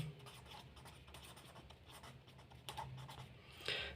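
Chalk or marker writing on a board during a maths lesson, with continuous scratchy strokes and short taps in an otherwise quiet room, no voice heard.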